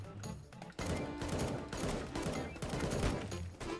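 Rapid gunfire in the Roblox shooter Bloxstrike, a loud, dense fusillade of automatic shots and bursts that runs almost without a break from start to finish.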